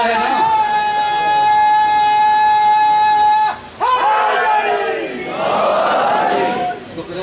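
A crowd at a religious majlis for Chehlum of Imam Hussain in Haripur answers a leader with loud chanted slogans, a sustained sung call followed by a surging collective shout from many voices.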